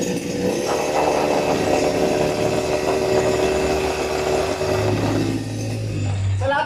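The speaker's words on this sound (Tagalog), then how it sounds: "PD40 heavy duty na grass cutter. Unahin natin itong grass cutter. Testingin ko po." A Kuyoma Japan PD40 heavy-duty grass cutter engine runs steadily, a loud close buzzing two-stroke drone that holds for several seconds and then dips near the end.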